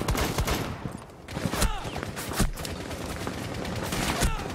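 Dense, continuous gunfire and explosions in the tactical shooter Rainbow Six Siege, with loud overlapping shots and impacts throughout and a few sharper cracks standing out.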